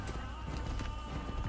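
Rapid clip-clop of a horse galloping in Assassin's Creed, with a busy game soundtrack underneath, steady and fairly loud throughout.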